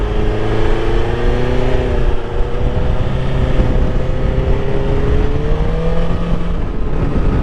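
A 2021 BMW S1000XR motorcycle rides along a twisty road, its engine humming steadily with gently rising and falling pitch under heavy wind rush, loud and continuous throughout.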